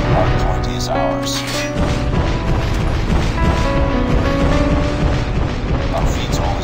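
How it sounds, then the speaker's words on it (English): An aircraft explodes in a first-person shooter game amid continuous booms and gunfire, a loud, dense wash of blasts with game voices talking over the din. "Our VTOL has been destroyed."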